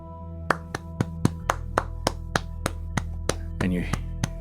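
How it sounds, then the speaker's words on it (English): A lone person claps slowly and steadily, about a dozen sharp claps spaced evenly apart over a low sustained hum. "the sound of a single person clapping"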